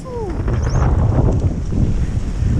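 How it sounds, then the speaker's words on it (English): Strong blustery wind at a trout fishery, a steady loud roar buffeting the microphone throughout with no let-up. "It is a very, very blustery day today."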